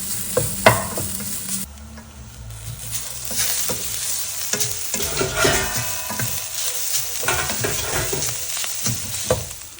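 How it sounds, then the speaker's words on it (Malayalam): Thawed frozen grated coconut is stirred and roasted in a hot pan, with repeated scraping spoon strokes and a constant close sizzle, occasional sharper knocks against the pan rim and no talking. "നമുക്ക് തേങ്ങ ഒന്ന് ശരിക്കൊന്ന് ഇളക്കി ഒന്ന് മൂപ്പിച്ചെടുക്കാം"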